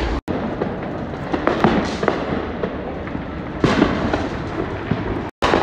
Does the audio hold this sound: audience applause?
no